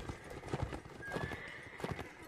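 Galloping horses in Mount and Blade Warband pound out rapid clip-clop rhythms, with a neigh rising briefly through the steady cavalry clatter.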